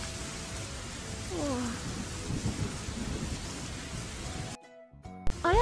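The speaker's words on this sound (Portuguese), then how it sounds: "Ayato, tu tem medo de trovão?" A thunderstorm in a Gacha Life animated story brings steady rain and rolling thunder, a dense wash of noise with low rumbles. A voice is heard briefly over it before the sound cuts out near the end.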